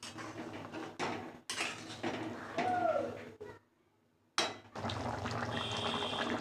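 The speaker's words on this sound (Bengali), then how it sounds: "এবার তো ডিম আলুটা দিয়ে দিচ্ছি" Eggs and potatoes are dropped into a pot of simmering egg gravy, with metallic clatter of utensils against the pot, liquid splashing and bubbling, a brief near-silent gap, then steady sizzling and simmering.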